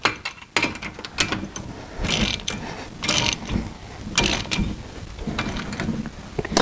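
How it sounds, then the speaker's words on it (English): Ratcheting wrench clicks in bursts while bolts are snugged down with light torque to hold a car brake rotor in place, close and mechanical, with brief pauses between runs and no talking. "just give it a gentle amount of torque, just to make sure that this rotor doesn't move when you're tightening this down"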